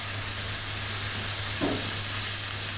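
Spice paste for mustard hilsa curry fries in a pan as a steady, close sizzle, with one brief soft stir in the middle and no voices.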